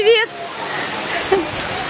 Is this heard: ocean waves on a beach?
yes